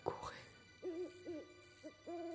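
An owl hoots four times in a quiet night setting, each call a clear, moderately loud tone with a rising and falling contour, following a brief rustle at the start.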